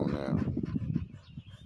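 Dogs pant and whimper close by after tangling with a groundhog, a quick rhythmic breathy huffing that runs throughout, with a voice speaking over it.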